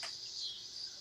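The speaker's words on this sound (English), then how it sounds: "crickets and the Cicadas." Night insects, crickets and cicadas, give a continuous high shrill chirring trill, steady and moderately near, with a brief sharper burst at the start and no talk over it.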